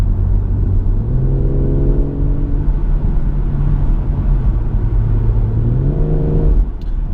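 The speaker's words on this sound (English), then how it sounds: "I'm going to pop this into just normal drive, let the car sort of change gears by itself" A BMW M140i pulls away in automatic drive, its engine droning loud and close as the pitch climbs, steps down at a gear change, and climbs again before easing off near the end.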